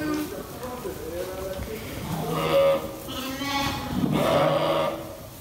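Île-de-France breeding sheep on a farm bleat several times, wavering calls rising over a steady background of people talking nearby.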